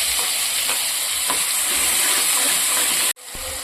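Curry leaves and cumin crackle and sizzle in hot oil as a tempering for garlic chutney, a loud steady frying hiss with faint stirring that cuts off abruptly near the end.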